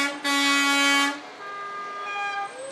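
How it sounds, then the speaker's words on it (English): A loud truck air horn blasts for about a second during a parade, followed by a softer, lingering tonal horn sound that shifts in pitch. "They love to blow their air horns."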